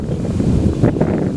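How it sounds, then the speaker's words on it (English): Strong wind gusts buffet the microphone outdoors in the backyard of a house in Eaton, Ohio, a steady loud low rumble with brief surges, no talking. "it's a little windy, so bear with me"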